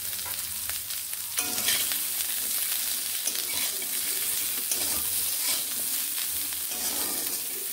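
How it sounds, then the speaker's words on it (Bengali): Drumstick stalks frying in a pan with salt and turmeric, a constant close sizzle broken by repeated stirring and scraping strokes, no speech. "ডাঁটাগুলোকে এইভাবে ভেজে নেব।"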